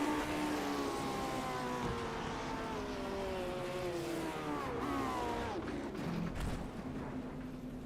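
Racing cars in an iRacing sim replay roar past during overtakes, engine pitch sweeping up and down as they pass, a steady blend of several cars at moderate level.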